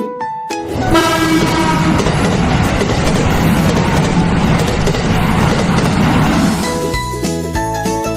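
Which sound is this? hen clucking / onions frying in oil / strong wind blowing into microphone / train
train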